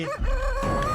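A rooster crows in the video game Chicken Feet, a single drawn-out, harmonic call that sounds close and fairly loud over a steady game background.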